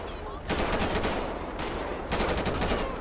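Gunfire in a GTA V police shootout video game, with repeated bursts of rapid shots across several seconds, loud and close, with a short pause between volleys.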